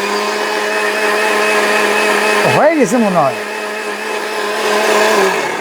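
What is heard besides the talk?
1000 watt steel blender running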